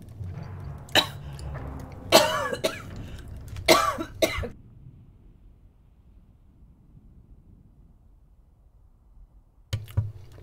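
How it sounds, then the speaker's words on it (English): A woman coughs in a few sharp, close bursts over the first four seconds, then quiet follows before a couple more brief coughs near the end. "did not warn me she was about to cough"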